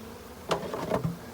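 Honey bees buzz briefly near an open hive while being installed in spring, with a few soft wing-hum swells close by and no voices.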